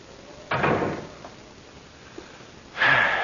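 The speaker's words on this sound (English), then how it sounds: "Come upstairs now and close the door at the bottom." Door closing as a sound effect in a radio mystery drama: two dull, fairly loud bursts about two seconds apart, against a faint hiss and with no voices.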